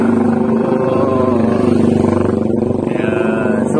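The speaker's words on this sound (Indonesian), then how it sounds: "Ya, suaranya knalpot motor alay, guys." A loud aftermarket motorcycle exhaust drones close by with a steady, buzzing, horn-like tone that stays constant throughout.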